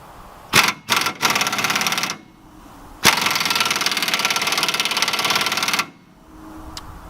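An impact wrench tightens bumper bolts on an F250, loud rapid hammering in a few short bursts and then one long sustained run, close by with no talking.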